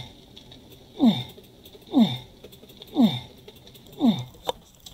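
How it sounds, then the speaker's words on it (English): A character's jump sound in the survival game HORDE repeats four times at a steady one-second rhythm, each a short low sliding grunt-like tone over a faint high hum. "This is the sound of him jumping."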